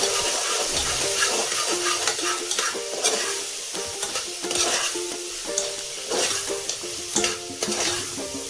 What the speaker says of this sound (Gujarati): થોડું મિક્સ કરવાનું છે આપણે।